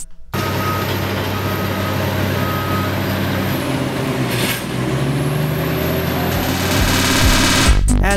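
A heavy engine drones loudly and continuously, with a high steady whine, mechanical rumble, and a brief dip midway before revving up near the end.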